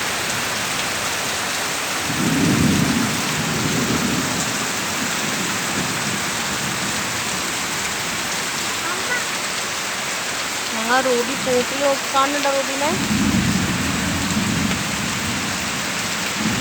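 Heavy rain pours down steadily and loudly throughout a thunderstorm, with deep rolling rumbles of thunder swelling near the start and again toward the end, while a person speaks briefly in the middle.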